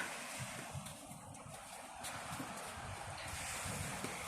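Steady wash of sea waves at Bolinao, Pangasinan, with wind rushing across the microphone, a continuous broadband roar with soft surges, no voices.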